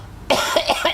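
A single short, deliberately acted cough, sudden and loud, close to the microphone, bursting in after a brief quiet moment and breaking into a few rough pulses.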